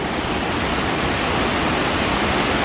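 Steady, loud broadband roar of a waterfall at Talon Chutes, heard up close from beneath the falls, a continuous hiss with no breaks and no voices.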